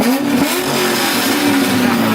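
Loud Chevrolet Corvette C6 engine revving hard nearby, a continuous roaring rasp with a rising and falling pitch, no talking.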